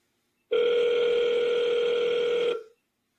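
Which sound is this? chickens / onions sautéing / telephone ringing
telephone ringing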